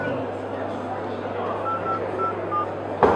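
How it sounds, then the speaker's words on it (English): Short electronic keypad tones from a Firefox OS phone dialer, several brief beeps spaced unevenly as digits are entered, heard under a presenter's steady talk at a busy trade-show demo, ending with a sharp click. "So here we have our phone dialer. Do you have a number I can dial?"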